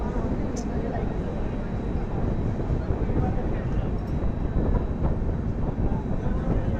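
Humsafar Express train 12503 runs through Gudur Junction without stopping, heard from onboard as a steady, loud rumble of wheels and carriages with wind noise, with faint voices in the background.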